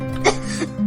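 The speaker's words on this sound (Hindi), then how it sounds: "वो बिस्तर से उठ ही नहीं पा रही थी और पूरा दिन बस खांस रही थी" A woman ill in bed gives a single short, rough cough over a faint steady background hum.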